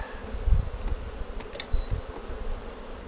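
Honey bees drone around an open hive as frames are worked, a continuous close buzz with occasional louder passes and a few soft knocks underneath.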